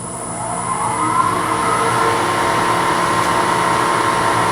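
A wood lathe spinning near 2,000 RPM as a roughing gouge rounds a small Christmas ornament blank between centers: a steady, close, loud droning whine with a constant pitch and no pauses.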